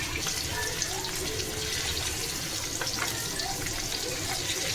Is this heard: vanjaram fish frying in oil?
yes